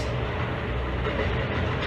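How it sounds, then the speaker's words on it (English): A train pulls into a station with a loud, steady rumble and rolling roar that fills the scene close by, no voices heard over it. "There's a train coming in which causes excitement because of all the noise"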